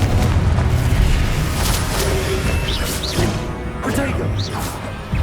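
Fiery spell blasts booming amid a Hogwarts Legacy game fight, dense crashing impacts and whooshes layered over continuous battle noise, loud and close throughout.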